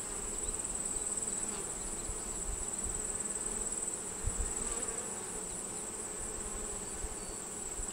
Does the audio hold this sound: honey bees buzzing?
yes